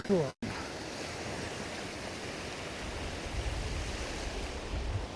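Surf breaking on the shore of the Holderness coast near Withernsea, a steady broadband wash of waves with wind noise, heard continuously and fairly close after a brief cutout at the start.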